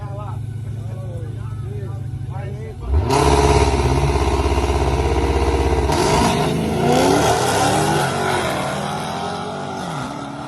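A Dodge Scat Pack drag races a Trackhawk and a wide-body Hellcat Redeye on an eighth-mile track in Mooresville, North Carolina. A loud V8 idles under speech, then bursts into a roaring launch and sustained hard acceleration with shifting pitch.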